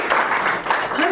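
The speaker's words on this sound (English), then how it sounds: "Please clap." Audience applause at a conference panel on misinformation, a dense steady patter of clapping filling the whole moment, with voices mixed in underneath.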